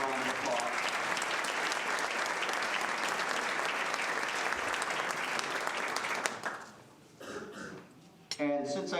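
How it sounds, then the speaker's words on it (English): Applause from the audience at a volunteers' night event, dense sustained clapping filling the room, then fading into scattered claps and light background noise at the end. "Let's give them all a round of applause."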